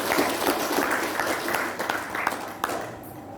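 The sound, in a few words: audience clapping for certificate holders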